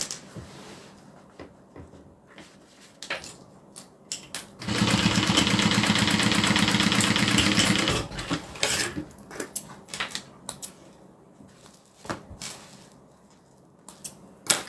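A sewing machine runs in one steady, loud burst of about three seconds, its needle hammering rapidly as it joins two fabric pieces, with quieter handling rustles and clicks before and after.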